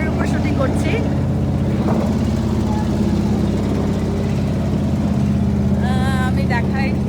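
A trawler boat's engine drones as a constant low, rumbling hum out on the water, loud and unbroken, with voices talking over it at times.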